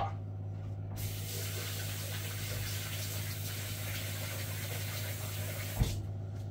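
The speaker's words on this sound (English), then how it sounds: "get some more water in there now with" Water gushes in a steady, close spray while being poured into a lamb casserole, running continuously for several seconds before stopping, over a low electrical hum.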